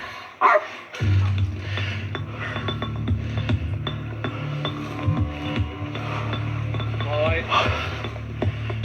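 A dog barks in sharp bursts during a police chase in a backyard, over a constant low mechanical drone, with people talking nearby.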